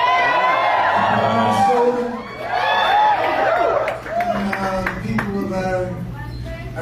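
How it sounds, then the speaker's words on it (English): Crowd in Minneapolis cheering and applauding, with whoops and shouting voices rising in waves over steady clapping, loud and close throughout. "Applause"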